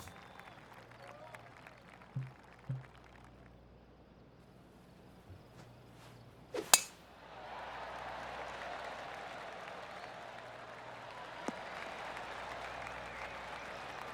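Soft, polite golf-clap applause in PGA Tour 2K23 swells up after a sharp tee-shot thwack and holds steady as a gentle, even patter of many hands clapping.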